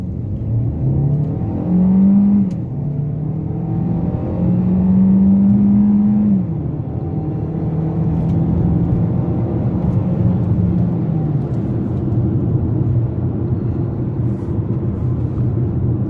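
A 2021 Kia Sportage GT Line in sport mode accelerates hard from 0 to 100 km/h, heard from inside the cabin as a loud, rising engine drone that climbs through gear changes over a constant road roar.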